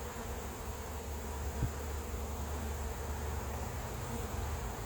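Honeybees buzz as a steady, faint hum around an open hive while honey is being pulled and queens checked, a low continuous drone without voices.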